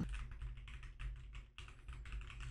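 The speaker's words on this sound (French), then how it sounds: "Je vais refaire le test du clavier." Rapid typing on a computer keyboard captured by a Beacn desk microphone, a steady patter of fast clicky keystrokes with a brief pause midway, close and clear.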